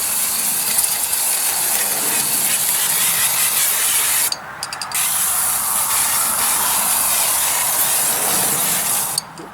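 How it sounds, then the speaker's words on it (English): A loud aerosol brake cleaner spray hisses almost continuously up close while cleaning Renault Clio rear brakes, breaking off briefly twice, with faint mechanical rattling underneath. "I've also got some aerosol brake cleaner, so I'll give it a squirt"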